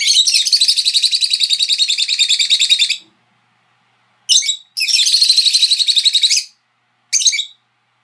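Pet birds chirp back and forth in two long rapid trilling runs, each about two seconds, with short bursts between them. The calls are loud, close and high-pitched, with no talking.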